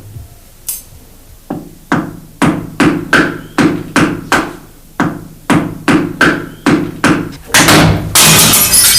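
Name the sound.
hammering a nail into a brick wall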